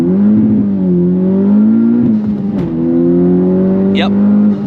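A Honda Civic Type R engine, fitted with a new tune and a cone air filter, is pushed to full throttle, its loud close drone climbing and holding steady with brief dips, as a voice speaks over it.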